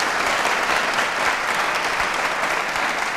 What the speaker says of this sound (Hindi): तालियां प्रीति जी के लिए जोरदार तरीके से बजाइए